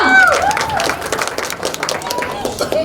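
Audience applause at an engagement sangeet, a burst of clapping and light cheering from a seated crowd, loud and close, with a voice over it at the start.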